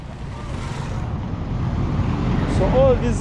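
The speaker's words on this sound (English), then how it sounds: "So all these cars are exiting the city at the moment." Dense road traffic rumbles steadily as cars leave the city along a street in Bulenga, Uganda, growing slightly louder toward the end with a faint horn-like tone near the close.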